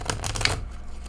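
A quick ruffling riffle of a linen-cardstock deck of playing cards being shuffled, a rapid flutter of papery clicks that tapers off within a second.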